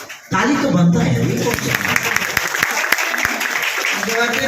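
A crowd at a Bhojpuri music interview breaks into clapping after a quiet moment, steady applause with scattered laughter and voices mixed in.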